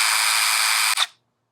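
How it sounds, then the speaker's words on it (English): A power drill boring a hole into a DeLorean time machine replica, a loud steady whine held for about a second before cutting off abruptly. "I have no problem drilling a hole into it."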